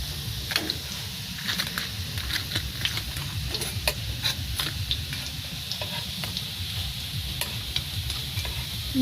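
Food frying in a pan over a gas stove in a village kitchen, a steady close sizzle with light scattered clicks and stirring taps throughout.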